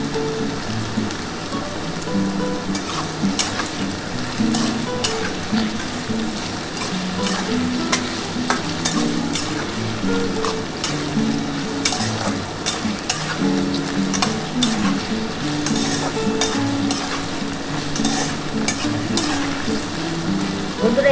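Ground poppy seed paste sizzles and crackles steadily in a hot pan, a dense, continuous frying hiss with soft stirring scrapes throughout, fairly close and with no talking.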